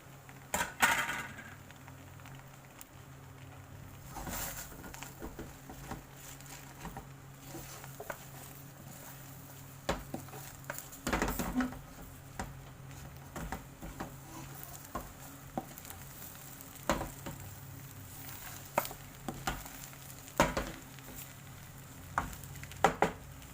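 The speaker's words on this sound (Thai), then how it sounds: "ใส่มะเขือเทศลงไปเลยนะ ใส่คะน้าลงไปนะ" Tomato and kale stir-fried into fermented pork fried rice give a quiet sizzle, with repeated scraping and tapping of a utensil against the pan at an irregular rhythm.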